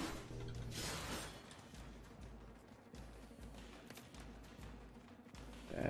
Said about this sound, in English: Let's take an elevator ride.